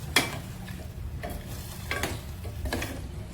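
Papaya pieces simmering in sugar syrup for tutti frutti give off a soft, low bubbling hiss, broken by a few sharp, irregular clicks and pops, up close and fairly quiet.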